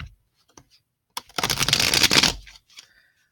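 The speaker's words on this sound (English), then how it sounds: "those cards moved while I was shuffling" Tarot cards being shuffled by hand, a close dense riffling burst of about a second, framed by a few soft isolated taps and card flicks with quiet gaps around them.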